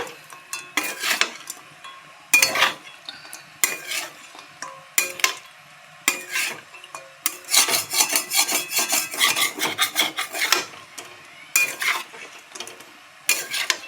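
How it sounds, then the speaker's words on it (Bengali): Mustard paste stirred and fried in a pan for a dhaba-style dish, loud bursts of scraping and rasping spatula strokes against metal, clustered and irregular, close up with quiet gaps between, no voices. "এটা একটুখানি নাড়াচাড়া করব, সর্ষেটা একটুখানি ভাজা ভাজা মতো হবে"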